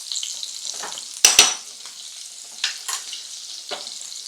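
Steak and potatoes sizzle in a pan while being basted with butter, a soft frying hiss broken by a few sharp spitting bursts and scraping stirs, with no voices.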